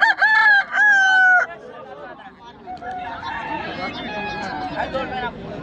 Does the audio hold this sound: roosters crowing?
yes